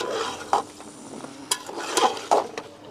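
Ground masala and Kashmiri red chili being stirred in a pan for mutton pachauni, soft sizzling under intermittent scraping and clinking strokes of a spatula against the metal, close by with no talk.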